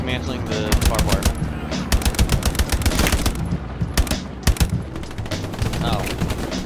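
An MG42 machine gun fires in Hell Let Loose, a World War II shooter: loud, very rapid bursts of tearing automatic fire, repeated back to back with only brief pauses, close and dominant.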